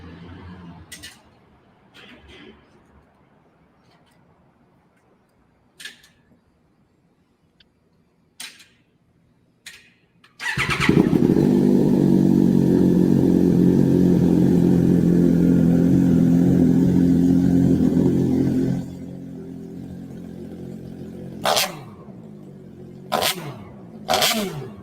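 A loud motorcycle engine with a custom exhaust is held at high revs for about eight seconds before cutting off. Scattered sharp clicks and ticks come before and after, and there is no talking.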